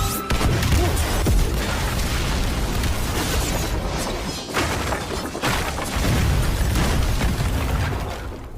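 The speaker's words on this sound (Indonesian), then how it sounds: "melemparkan bahan peledak sehingga membuat gudang persenjataan menjadi hancur" A weapons warehouse blows up in an anime scene: a loud, sustained, roaring explosion with crashing and rumbling debris that stays dense and powerful throughout, with no voices over it.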